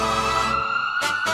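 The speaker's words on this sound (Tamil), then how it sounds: "கொஞ்சம் ஆம்புலன்ஸ் வழி விடுங்கப்பா." An ambulance siren wails at a crowded political rally. The steady tone is loud and close, then shifts into brief choppy bursts near the end.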